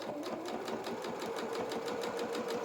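A sewing machine runs steadily, stitching the bottom edge seam of a doll-sized jacket for a Highland cow plush, its rapid needle strokes forming an even, close, continuous mechanical rattle with no talking.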